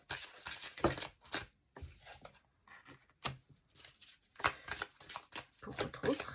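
Tarot cards are shuffled close up, making soft riffling and sliding bursts in an uneven rhythm with short pauses between them.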